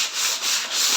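Brisk scrubbing strokes work at a paint stain on stairs, a close, steady rubbing hiss pulsing in a quick rhythm over about a second.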